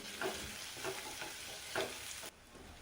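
Curry leaves and green chillies sauté in a pan, giving a faint sizzle with a few soft stirring scrapes before the sound drops off abruptly.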